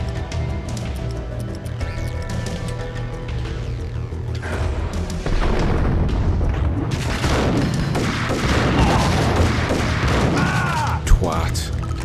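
Shotgun blasts and heavy gunfire in the video game Max Payne, with booming shots and crashes growing denser and louder in the second half, over a low game soundtrack.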